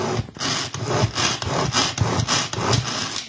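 A SuperSonic manual chopper works through onions: about seven loud, rhythmic whirring chops in quick succession, close up, with no talking.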